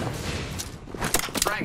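Video game gunfire crackles in short, dense bursts, thickest toward the end, layered over a steady roar of background noise while voices shout.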